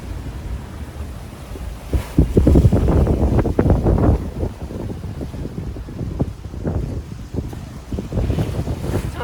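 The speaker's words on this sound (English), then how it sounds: "15 knots or more, well, probably more actually, 15 knots of wind" Strong wind of about 15 knots or more buffets a sailboat on a solo overnight passage at sea, roaring and gusting steadily while waves and water slosh and surge around the hull.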